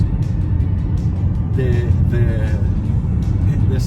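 Interior engine and road noise from a Mazda CX-30 with a 2.5-liter turbo engine while driving, a steady low rumble with a brief rising whine, under a voice talking.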